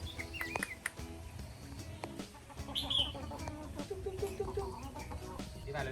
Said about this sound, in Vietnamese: Cái gà to.